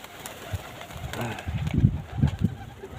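Pigeons coo softly and flutter during an evening feeding, with a few short low coos and wing rustles building toward the end of the brief stretch.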